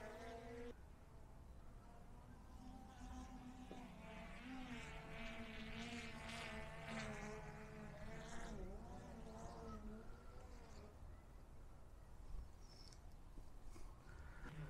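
A DJI Mavic 3 Classic quadcopter drone hums with a high, insect-like buzz whose pitch shifts as it moves, steady and moderately distant, with faint background noise.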